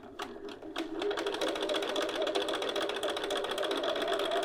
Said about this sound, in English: we're going to start by edge stitching the center front and center back